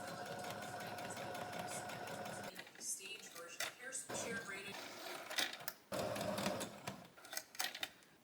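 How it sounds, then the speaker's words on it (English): A sewing machine stitches around an appliqué shape for a beetle sweatshirt, running steadily for a couple of seconds before breaking into shorter bursts separated by pauses and handling noises. "I'm going to take all of these to the machine, and I'm going to sew around the entire shape."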